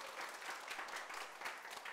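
Lecture audience applauding in a hall, a steady, fairly quiet wash of many hands clapping at a distance, with no break across the moment.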